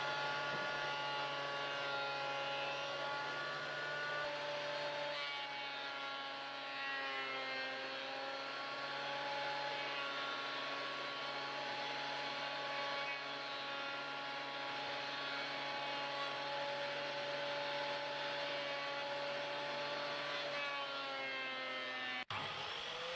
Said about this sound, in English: I could then run the pieces through my planer thicknesser just to clean up the rough edges